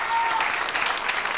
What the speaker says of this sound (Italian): Facciamo un applauso alle ragazze.